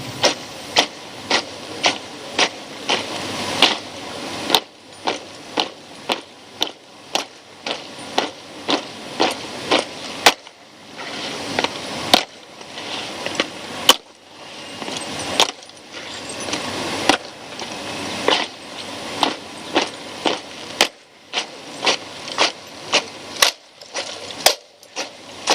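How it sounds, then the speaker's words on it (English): A silent drill platoon marching and handling rifles at a display, a long series of sharp, crisp wooden slaps and clacks in tight synchronized bursts, repeated in steady rhythmic groups with brief pauses between. "shall be witnessing synchronization of steps as well as mastery of weapon handling"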